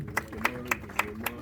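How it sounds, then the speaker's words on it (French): Five sharp, evenly spaced claps ring out in steady rhythm, fairly close and distinct, with a voice murmuring faintly beneath them. "Sur vos applaudissements."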